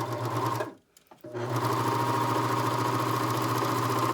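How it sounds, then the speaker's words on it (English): A serger stitches the edge of a fabric while beads are fed in, a steady close mechanical whir that cuts out for about half a second, then runs on evenly. "I'm going to stitch just a little bit to hold it in place"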